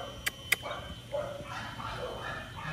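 A merle pit bull gives two short, sharp barks close together near the start, followed by quieter low background sound with no talk.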